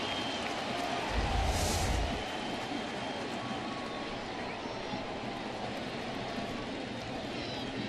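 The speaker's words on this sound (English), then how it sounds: "the crowd is giving him a nice round of applause" A baseball crowd at a Detroit Tigers home game against Oakland applauds steadily in a broad, continuous wash of stadium noise, with a brief louder swell near the start.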